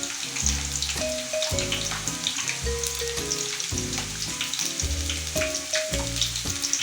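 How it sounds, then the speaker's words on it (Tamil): Onion and garlic sauté in a hot pan for Gobi Manchurian, a steady sizzle running under louder background music with a bass line, with no speech. "வெங்காயம் இது வதங்கினே இருக்குது."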